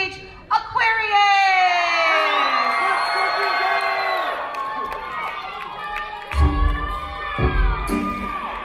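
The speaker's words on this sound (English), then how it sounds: "Let's have a big round of applause as we welcome to the stage" A large crowd at an anime convention concert in Long Beach, Los Angeles, gives loud, sustained cheering full of high whoops and shouts. Heavy bass thumps from the stage break in toward the end.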